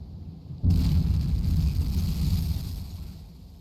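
In the submarine game UBOAT, a torpedo strikes a ship: a sudden deep blast bursts in and settles into a heavy, rumbling roar that slowly fades.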